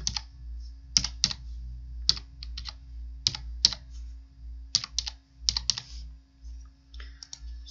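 Keys on a computer keyboard clack in short irregular clusters as a bank card number is entered, crisp close taps separated by brief pauses over a faint steady hum.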